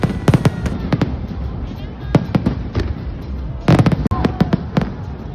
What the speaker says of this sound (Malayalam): ഞങ്ങൾക്ക് അടിപൊളി ഫയർ വർക്ക്സും വാട്ടർ ഷോസും കാണാൻ പറ്റി.